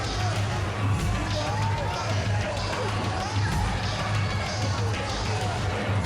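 A wrestling audience at an indie show in Evansville gives a steady, warm ovation, a dense wash of cheering and clapping that stays level throughout, with no single voice standing out.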